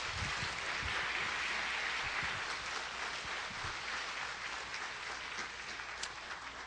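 A church congregation at a Sunday service applauds as a pastor comes forward; the clapping is soft and distant, an even wash of many hands that holds steady for several seconds.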